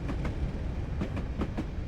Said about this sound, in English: The locomotive is over the top now.